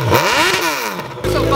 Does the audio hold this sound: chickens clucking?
no